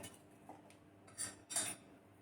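A utensil scrapes and clinks against a pan while lemons and sugar are mixed for pickle, giving a few faint, irregular metallic taps and two short louder scrapes in a quiet kitchen.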